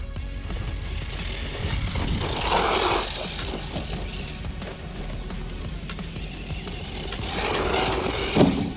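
A UDIRC UD1201 RC car drives and jumps, its small motor whining steadily with louder surges and a sharp bump near the end, recorded close by outdoors.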